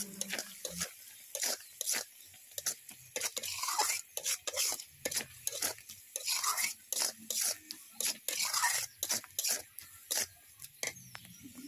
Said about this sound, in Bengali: এই মশলাগুলো দেওয়ার পর আমি আরও 5 মিনিট ভালো করে নাড়াচাড়া করে নেব।